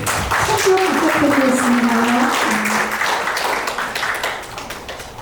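An audience claps at a dictionary book-launch gathering, a dense burst of applause that starts loud and gradually thins out, with a voice sounding over the clapping.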